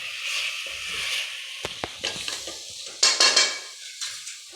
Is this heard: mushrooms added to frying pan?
yes